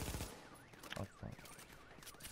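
Rapid gunfire from the video game The Division, bursts of shots rattling in quick succession with a sharp louder crack near the middle, fairly quiet overall and without talk.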